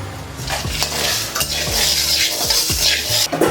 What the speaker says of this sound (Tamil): மல்லி நல்லா கருகாமல் வறுக்கணும்